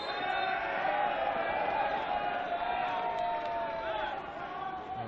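A football crowd at an Australia Cup Round of 16 night match between Oakleigh Cannons and Heidelberg United fills the stadium with a steady, distant roar and chanting, with no break and no voice over it.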